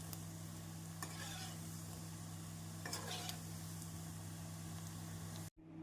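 Mutton kola urundai meatballs frying in hot oil over medium heat, a steady close sizzle with faint stirring clicks, constant throughout with a brief dip at the very end.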